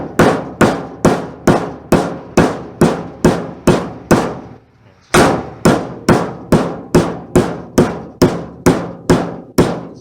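A hammer pounds insulated copper wire flat in a steady run of sharp, loud metallic strikes, about two per second, with a brief pause midway before the blows resume.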